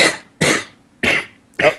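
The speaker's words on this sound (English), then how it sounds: "Laughing sometimes causes me to cough." A man coughs after laughing, four sharp, close coughs in quick succession, each a harsh burst spaced about half a second apart.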